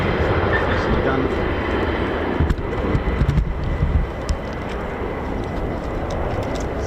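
Fighter jets, F-15s and F-35s, arriving at the RAF Lakenheath air base: a loud, steady broadband jet roar that fills the whole clip, with a few brief bursts rising out of it midway.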